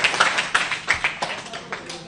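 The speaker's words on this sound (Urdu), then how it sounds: "ملک صاحب کے لیے تالیاں." Audience clapping at the Lahore Press Club after a resolution is passed, a brief patter of separate claps with voices murmuring underneath.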